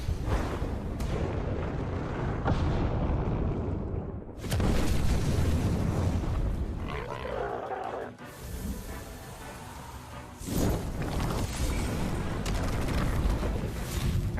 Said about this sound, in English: Now Flaming Meteorite.